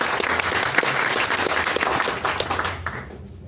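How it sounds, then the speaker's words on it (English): An audience bursts into sustained, dense applause that fills the room, then thins and tapers off near the end. "Big round of applause for that."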